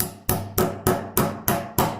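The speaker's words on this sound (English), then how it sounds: "Now I'm going to take a hammer" Hammer pounding a metal pin into a handmade wooden pocket knife: seven sharp, evenly spaced close strikes, each ringing briefly before the next blow, with no talking.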